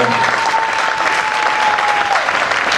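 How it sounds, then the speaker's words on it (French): A church congregation applauds to acclaim the Lord during a Sunday morning service, steady broad clapping that fills the room and holds at an even level throughout, with a faint sustained tone underneath. "Quelqu'un peut acclamer le Seigneur ce matin"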